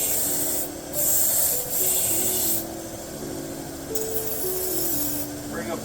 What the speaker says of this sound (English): Bring up the burr from the back and lightly kiss it on the angle.